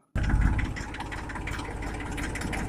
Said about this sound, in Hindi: वीरपाल भैया बस जही रुकवा दो ट्रैक्टर की